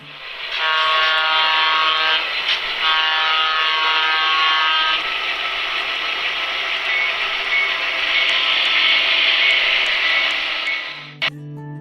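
An Athearn EMD F3 diesel model locomotive with a Tsunami Soundtrax sound system runs with a steady engine drone. Loud harmonic horn blasts sound over the first five seconds, and a short clunk comes near the end.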